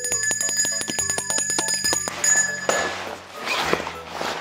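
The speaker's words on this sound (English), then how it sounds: "A bell." A small bell from a schoolbag rings repeatedly as it is handled, bright metallic pings in quick succession at close range, followed by rustling and clunks.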